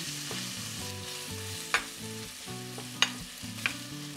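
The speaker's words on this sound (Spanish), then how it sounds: "vamos a agregar el chorizo. Aquí igualmente vamos a dejar que se fría muy bien." Chorizo fries in a pan with a steady sizzle, broken by three sharp taps of a utensil. Steady tonal background music plays underneath, and no one speaks.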